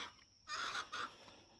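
Hens in a backyard chicken coop give two short, soft clucks in quick succession, faint and close, with quiet air around them.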